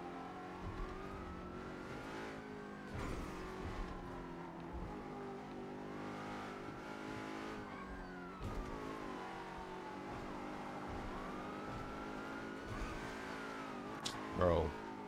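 A car engine in the GTA role-play video game drones steadily, its pitch climbing and dropping repeatedly as the car accelerates and shifts while driving, with a brief bump near the end.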